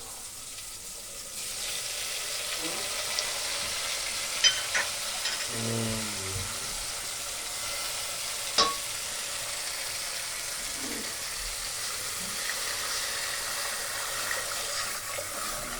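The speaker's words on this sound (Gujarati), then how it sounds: "દાળને આપણે વઘારમાં નાખી દીધી છે." Soft, steady sizzling hiss as boiled lentils hit hot oil tempering, with a few faint clinks and stirring sounds, fairly quiet throughout.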